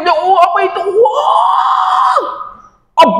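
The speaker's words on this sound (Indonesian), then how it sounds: "Kamu ngapain teriak-teriak?" A child screams loudly in a long, wavering, high-pitched cry lasting about three seconds, cut off briefly before another shrill burst begins; no speech accompanies it.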